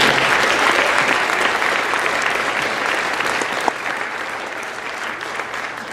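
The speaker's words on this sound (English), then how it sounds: "Let's have the students give a huge round of applause to them." Students applauding performers at a county honor band and choir concert, a broad, sustained roar of clapping from a large crowd, even and loud from start to finish.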